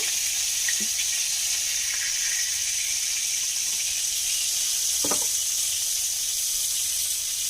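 Oil left in a pan after frying small shrimp heats and sizzles with a constant bright hiss, close and even, with a faint clink or two and no talk.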